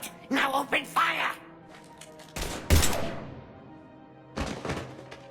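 Gunfire erupts in the sci-fi game Mass Effect 3 during a standoff on the Citadel, a few loud heavy bursts separated by pauses, following character dialogue.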